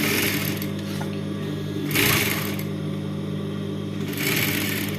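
Sewing machine stitching a slit in fabric, a loud close motor whir with needle chatter running steadily, swelling in brief faster bursts around the two- and four-second marks.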